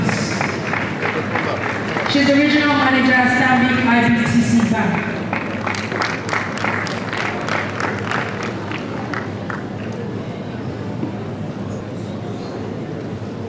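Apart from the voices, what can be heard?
audience applause at a conference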